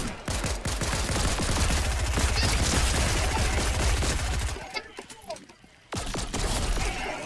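Lock-on pistol gunfire in the Fortnite video game, a dense, loud stream of rapid shots for several seconds, then a brief lull and a short burst.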